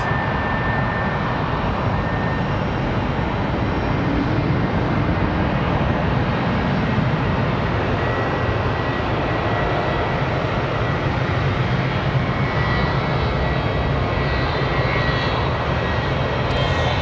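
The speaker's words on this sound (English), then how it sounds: "we got that FedEx A300 landing right now" Loud, continuous roar of a FedEx Airbus A300 jet landing at Raleigh-Durham International Airport, a steady engine rumble heard from nearby without pause.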